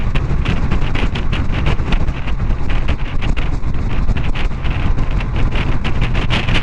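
Wind roars loudly against the microphone on a motorbike ride across the Seven Mile Bridge in the Florida Keys. The buffeting is heavy and constant and covers everything else, with no talking.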